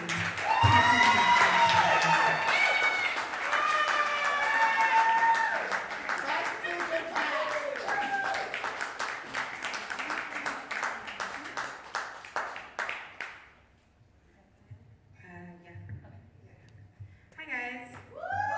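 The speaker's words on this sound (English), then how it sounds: "So please clap her all the way up to the" An audience at a live music night applauds a performer onto the stage with steady clapping, cheers and whoops for around thirteen seconds. It then dies away to near quiet before brief talking.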